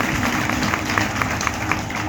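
A church congregation claps together during a Sunday healing service, producing a dense, steady wash of applause that runs unbroken from start to finish.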